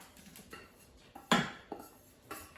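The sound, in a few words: gumbo roux being put back into the pot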